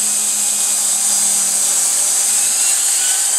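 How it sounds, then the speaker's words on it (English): A drill bores a small hole in a wooden ornament on a lathe, giving a constant loud high-pitched whine, close and steady, with a faint low hum under it. "I'm just going to drill a small hole in it."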